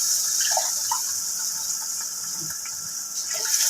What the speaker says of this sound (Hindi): सा कम ही मैं इसमें पानी ऐड करूँगी।